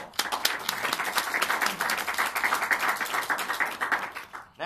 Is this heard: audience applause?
yes